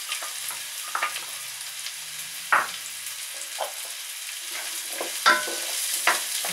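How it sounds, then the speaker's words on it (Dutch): Chestnut mushrooms frying in a pan, a steady close sizzle broken by occasional louder pops and crackles, with no talking. "Die bakken we even lekker mee."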